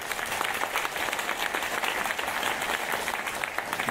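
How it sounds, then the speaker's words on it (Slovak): Audience applause at a Slovak podcast awards ceremony as a winner is called up, a dense, even roll of many hands clapping throughout. "Veľký potlesk, samozrejme."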